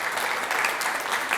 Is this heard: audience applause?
yes